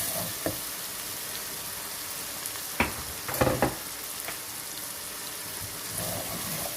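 Chili powder sizzles in hot oil in a pan for vegetable pulao, a soft steady frying hiss broken by a few scraping stirs of a spoon near the middle.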